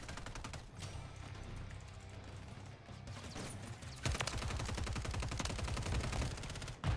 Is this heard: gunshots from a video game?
yes